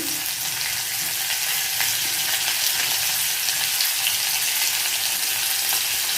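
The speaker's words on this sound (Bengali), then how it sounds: "এখন এর মধ্যে দিয়ে দেবো কাঁচা লঙ্কা কুচি" Chopped green chillies fry in hot oil with cumin and mustard seeds, making a close, steady, hissing sizzle with faint crackles that continues evenly throughout.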